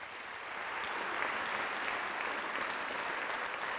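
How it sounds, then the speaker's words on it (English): Sustained applause from an audience at a school district ceremony honoring teachers of the year, steady and full throughout with no talking over it. "Let's give them a round of applause."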